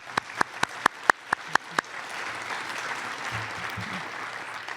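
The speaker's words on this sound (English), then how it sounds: "I'd like to give them another round of applause." A school National Honor Society induction audience claps in a short burst of about eight sharp, evenly spaced claps, fairly close, then fades into room murmur and low rumble.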